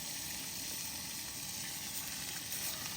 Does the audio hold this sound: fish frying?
yes